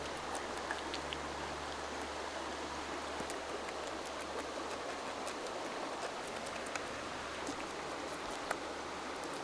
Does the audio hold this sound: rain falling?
yes